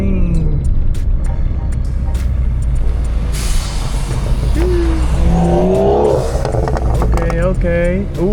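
A Chevrolet Camaro ZL1 rolls up at a busy car meet, its engine rumbling loud and close beneath a crowd of voices, with sharp hissing bursts and other vehicles audible nearby.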